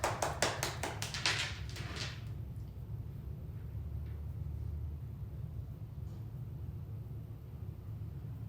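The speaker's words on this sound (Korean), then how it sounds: "박수!" A quick burst of about eight crisp, close hand claps fills the first two seconds, then gives way to a steady low room hum.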